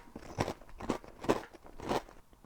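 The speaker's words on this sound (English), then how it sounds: "Our next offering is Tesco's Salt and Malt Vinegar Crisps" Tesco salt and malt vinegar crisps crunch in four distinct close bites spaced about half a second apart, crisp and brittle against quiet, with no talk.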